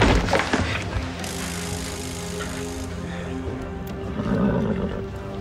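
Horses whinny and snort loudly nearby as an outlaw gang saddles up in a western scene, set against a dense wash of background noise and hoof movement.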